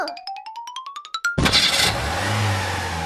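A car engine cranks with a rising series of rapid starter pulses, then catches and roars loudly as the car revs and pulls away.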